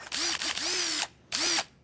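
A handheld power drill, used while building a carpeted ramp, whirs close up in several short bursts: three quick pulses, a brief pause, then one more.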